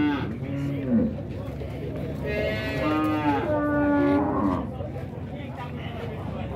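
Dairy cows at a cattle fair in Dois Riachos, Alagoas, give several deep, drawn-out moos close by, one after another, over a murmur of crowd chatter.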